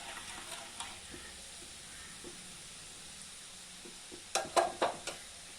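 Boondi batter drops fry in hot oil for ladoo, giving a soft continuous sizzle, with a few louder scraping stirs in quick succession near the end.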